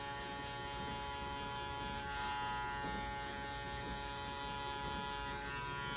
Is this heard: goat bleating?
no